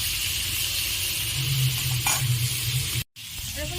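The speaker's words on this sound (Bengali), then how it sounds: "ভালো করে আমি এঁচোড়গুলো ভেজে নেব।" Pieces of young jackfruit fry in hot oil with a constant close sizzle and soft stirring scrapes, briefly cut off near the end, no voices.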